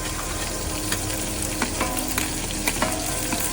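Onion and green chilies fry in hot oil in a pan, a loud, dense sizzle running throughout with occasional stirring clicks, close up and steady.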